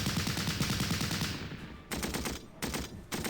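A Lewis machine gun fires in a WW1 battle game, rapid loud bursts that pause briefly, then return in several clipped volleys.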